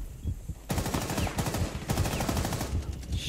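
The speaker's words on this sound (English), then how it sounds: "Oh yeah, they're shooting at you." Sustained automatic gunfire rattles through a video game firefight, with rapid bursts of close shots broken by a couple of brief gaps.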